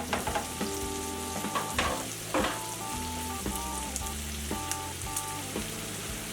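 Italian sausage, bacon and onions sauté in a soup pot for zuppa toscana, giving a steady close sizzle with light crackles under a constant background of tonal music, with no talking.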